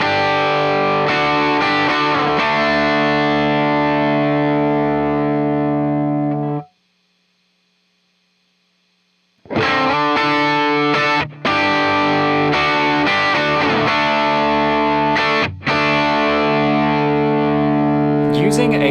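Distorted electric guitar chords through an Empress Compressor MKII set to a slow attack ring out loudly and punchily, with a brief silent gap midway before the strumming resumes.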